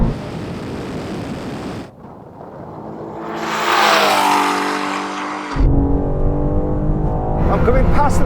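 Bugatti Chiron Super Sport in a drag race against a BMW M4 and M5, loud engine roar and wind rush heard from inside, with a surging acceleration, a gear-change dip and a voice shouting over it.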